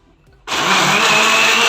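Electric kitchen blender switching on and whirring steadily while blending mulberry syrup with half a glass of water, a loud continuous motor roar starting abruptly after a brief quiet moment.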